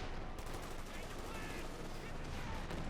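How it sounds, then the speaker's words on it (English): Heavy artillery and gunfire rumble through a Company of Heroes 2 battle, a dense, continuous roar of blasts and crackling shots with no pause, while a commentator talks over the combat. "More artillery fire."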